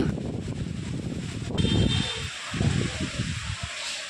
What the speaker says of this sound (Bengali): কি হাওয়া দিচ্ছে, একদম উত্তাল হাওয়া দিচ্ছে।